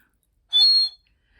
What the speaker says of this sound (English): And Gertrude, the bird whistle.